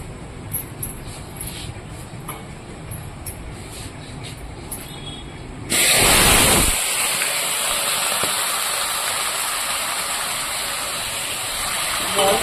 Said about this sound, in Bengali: এবার আমি সবজিটাকে কষিয়ে নেব।